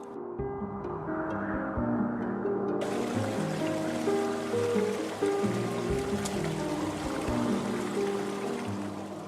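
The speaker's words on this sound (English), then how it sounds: "The sound of flowing water is muffled as ice limits the channel" Stream water flows steadily under a partial ice cover in the high Himalayan mountains of Nepal, a continuous muffled rushing and gurgling with no voices.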